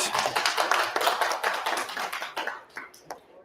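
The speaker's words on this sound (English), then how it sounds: "Round of applause" Applause from the audience at an annual powwow, a burst of close hand claps that holds for a few seconds, then thins to scattered claps and fades out.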